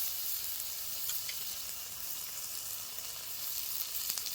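Ground spices frying in hot oil with ginger and garlic, a steady, faint, hissing sizzle with occasional soft crackles and no voices.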